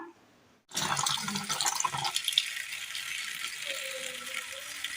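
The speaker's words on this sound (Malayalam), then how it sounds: "അല്പം വെള്ളം ഒഴിച്ച് കൊടുക്കുന്നുണ്ട്. നന്നായി ഒന്ന് ഉലച്ച് കഴുകിയെടുക്കാം." Water is poured over chopped spring onion stalks to wash them. After a brief quiet start, a bright splashing gush begins abruptly and keeps running steadily at close range.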